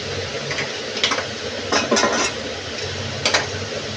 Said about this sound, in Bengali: এবার সবগুলো ভালো করে একটু কষিয়ে নেব